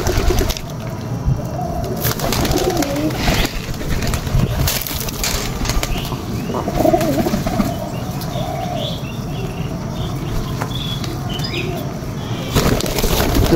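Domestic pigeons coo softly while wings flap in quick bursts nearby, the fluttering rising and fading over a low outdoor murmur with faint chirps.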